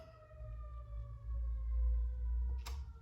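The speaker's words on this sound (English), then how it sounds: "Cue siren." A faint siren sound effect holds a steady wailing tone, played alone for a few seconds before a brief sharp click.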